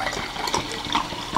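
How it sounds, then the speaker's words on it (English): Sparkling mineral water such as Pellegrino or Perrier pours into a glass close by, a continuous fizzing splash with crackling bubbles. "and pour it in a glass."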